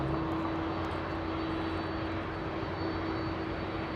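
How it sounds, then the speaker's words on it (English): A United Airlines Boeing 787 Dreamliner arriving at LAX from London Heathrow, a distant, steady engine drone with a low sustained tone, fairly quiet and unbroken. "United Airlines, the Dreamliner, a heavy arrival coming in"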